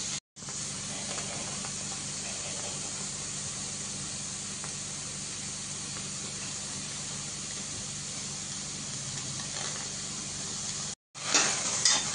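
Green peas stir-frying in a pan for Mumbai-style pav bhaji give a steady, loud sizzle and hiss, continuous for about eleven seconds. A brief gap comes near the end, then the sizzling resumes.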